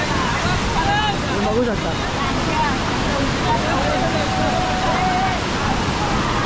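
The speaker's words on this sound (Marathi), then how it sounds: "पूर्ण वरतो एकदम डोंगरातून पाणी येत आहे पूर्ण खालती इथे" Water rushing down from a mountain into a natural pool near Mahad, Raigad: a loud, unbroken roar close by while someone talks over it.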